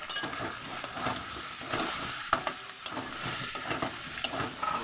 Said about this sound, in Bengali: এবার আমি ভালো করে কষিয়ে নেব